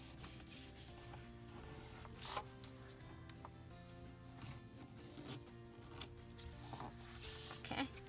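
Paper edges of a journal card are distressed by rubbing and scraping, a faint, close rasping with short repeated strokes and scuffs at a low level.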